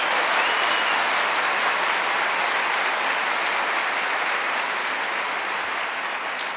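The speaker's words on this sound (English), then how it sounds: "Can we just give a round of applause to our school board?" Audience at a community forum in Corvallis, Oregon applauding the school board: sustained, dense clapping from a large crowd, even and loud throughout without a break.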